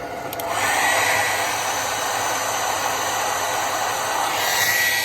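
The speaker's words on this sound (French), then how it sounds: "j'ai mis un sèche-cheveux ici. Alors pourquoi? Parce que regardez, je vais le brancher." A hair dryer powered by an off-grid solar panel and battery system blows with a steady, airy roar after a brief click at the start, running continuously at an even level with no voices.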